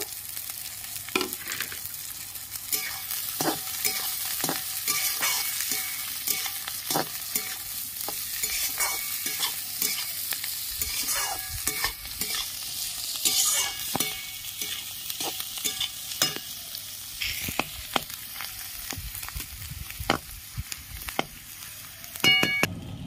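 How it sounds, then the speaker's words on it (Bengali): Chopped carrot, cabbage and green chilli stir-fry in a hot pan for egg chowmein, a steady sizzle broken by repeated scraping and clinking of the spatula against the metal, close and continuous with no talk. "কেটে রাখা গাজর কুচি, বাঁধাকপি কুচি, কাঁচা লঙ্কা সব দিয়ে আমি এবার ভালো করে ভেজে নেব।"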